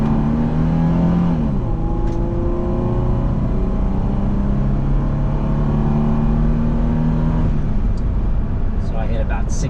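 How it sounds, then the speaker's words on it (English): A 1997 Toyota 4Runner engine pulls under wide open throttle from about 30 mph, droning and rising steadily with a shift partway through, heard from inside the cabin with someone talking over it. "So that's going 30 to 65 wide open throttle, no hesitation."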